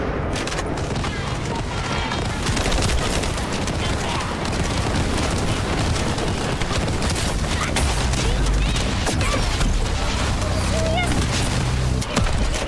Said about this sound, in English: why am I shooting the ground?